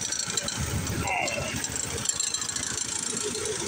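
A Kartko Power Ride 675 go-kart engine starts and settles into a rough, rattling idle, heard close and steady throughout.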